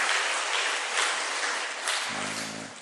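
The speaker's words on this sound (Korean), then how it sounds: "우리 하나님께 영광의 박수 드리겠습니다" A church congregation claps steadily in sustained applause during a Wednesday service, a dense wash of hands that fades slightly toward the end.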